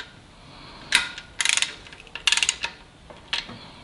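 Nuts and washers spun hand-tight onto the main cap girdle of a 440 Mopar engine, giving a few short metallic clicking and ratcheting bursts spaced apart, close and fairly quiet, with no talk.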